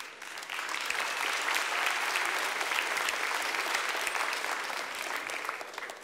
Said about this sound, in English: a big round of applause to our seekers who very ably operated our system